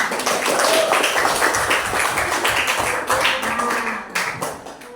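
Classroom applause for a student group's presentation, a dense patter of many hands clapping at once, steady for several seconds before thinning out near the end.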